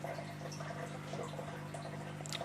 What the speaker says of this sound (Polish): jak wodę zacząłem spuszczać to leciała jeszcze słabiej niż teraz leci